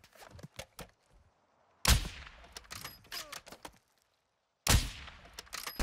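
Bursts of gunfire in the game Call of Duty DMZ, a quick string of sharp shots followed by two loud heavy volleys, with short quiet gaps between.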